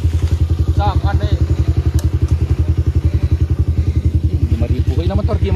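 A motorcycle engine running close by with a steady, rapid thumping pulse throughout, the exhaust chugging evenly while people talk over it.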